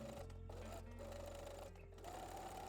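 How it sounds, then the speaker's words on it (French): Sewing machine running a gathering stitch along a swimsuit or lingerie ruffle, a quiet steady mechanical whir with a few brief pauses and slight pitch shifts, heard close and alone. "tu peux venir piquer un fil de fronce tout le long"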